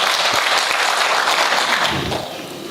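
A large crowd at a Ministry of Education and Sports event gives the minister loud, dense applause that holds steady, then tapers toward the end.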